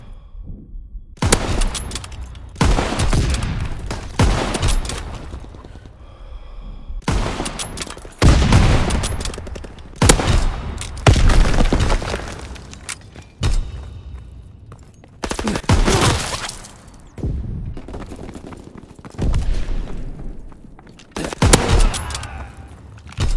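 Heavy gunfire in Call of Duty comes in loud, repeated bursts of rapid automatic fire separated by short pauses, with occasional explosive booms.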